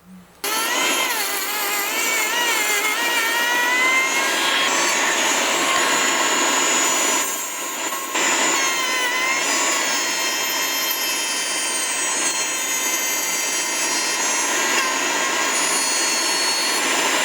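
Loud, steady whine of a router cutting a slot through plywood for a tenon jig, running continuously with a brief dip midway before resuming at full pitch.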